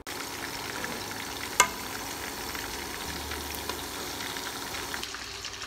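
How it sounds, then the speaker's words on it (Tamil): Fish fries in hot oil with a continuous, even sizzle and crackle close by, one sharp pop partway through and the frying going on without talk. "இப்போ இது ஃப்ரை பண்ணிவிட்டு காட்டுறேன்."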